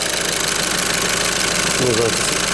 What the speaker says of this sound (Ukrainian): Ну що, начебто працює все фані рівненько.